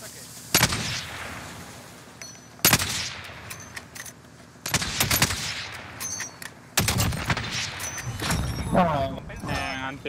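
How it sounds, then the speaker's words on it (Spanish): Gunfire in Call of Duty Warzone on the Caldera map, loud close shots and bursts at intervals, some ringing out with long decays, mixed with game effects while a voice talks at times. "Están disparando ya."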